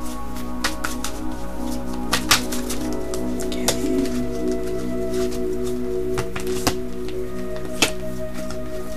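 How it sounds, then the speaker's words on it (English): Someone shuffles a deck of oracle cards by hand, making scattered soft snaps and riffles over a steady background hum. "So I'm just going to shuffle this deck and see what's in store for us this month."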